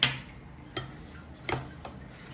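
A spoon stirs roasted daliya and jaggery cooked in pure ghee, giving a few sparse, light clicks and scrapes against the pan spaced across a quiet background.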